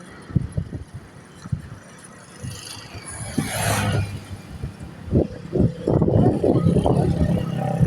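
A car passes by near a river wash with rushing water, its engine swelling to a rising whoosh in the middle and then fading, amid thumping sounds and ambient water noise.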